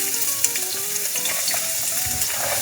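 Chopped onions sautéing in oil in a pan, a steady close sizzle and crackle that runs throughout with no talk.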